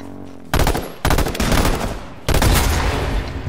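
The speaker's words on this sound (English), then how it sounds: "Ooh, we're getting shot hard." Loud, close bursts of rapid automatic gunfire in H1Z1, with three separate volleys broken by short gaps.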